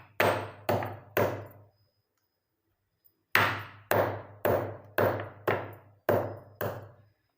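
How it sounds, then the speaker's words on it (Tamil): Ingredients for homemade natural hair dye pounded by hand: three sharp close thuds, a pause, then seven more evenly spaced hits, each ringing briefly, with no voices. "இந்த மாதிரி கொஞ்சமாக இடிச்சுங்க"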